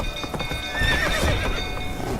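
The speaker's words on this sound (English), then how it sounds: "Giddy up." Horse hooves clip-clopping at a gallop in The Witcher 3 game, with a loud whinny partway through, close and steady over a constant game soundscape for about two seconds.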